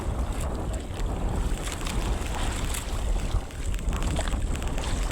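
Boats rock on rough water during a typhoon, with heavy, steady wind buffeting the microphone and surf churning throughout, loud and continuous with a brief dip near the middle.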